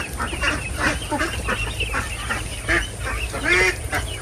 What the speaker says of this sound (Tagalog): Nag-iingay yung Gansa.